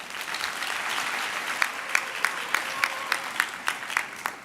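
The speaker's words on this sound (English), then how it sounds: "And they definitely deserve a round of applause." An audience at a university graduation ceremony applauds the graduates: a sustained crowd clapping with a run of sharper, evenly spaced claps standing out toward the end.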